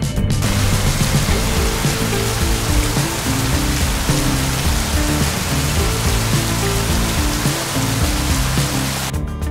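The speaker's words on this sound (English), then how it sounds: "Looks like it's going to rain." Steady, dense rain hiss fills the whole stretch, loud and continuous with a low rumbling undertone and no voices.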